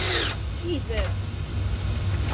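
A power drill drives self-tapping screws into metal seat brackets during Porsche seat fabrication in a workshop, heard as a short, loud whirring burst at the start, followed by a low hum with people talking nearby.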